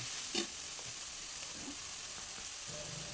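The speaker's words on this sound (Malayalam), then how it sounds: "സവാളയും നന്നായിട്ട് വഴറ്റിയെടുക്കാം അപ്പോൾ സവാളയൊക്കെ ഒന്ന് വഴന്ന് വരട്ടെ" Onions sautéing in oil in a pan for biryani make a soft, continuous sizzle, joined by a few light scraping stirs of a utensil against the pan. The sound is close but low in level, and nobody speaks.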